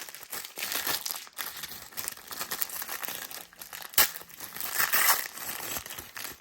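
Crinkling and crumpling of packaging as the twentieth door of an advent calendar is torn open, a close, busy rustle with sharp crackles and a brief tearing burst near the end.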